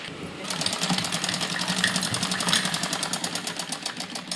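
An electric sewing machine stitches the side seam of a girl's frock, a fast steady mechanical rattle starting after a brief pause, close and even throughout, with no speech.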